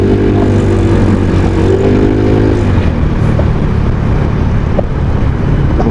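A Mazda sports car passes on a road, its engine note sweeping through a loud, rising-then-falling harmonic tone over roughly the first three seconds before fading into steady nearby traffic rumble.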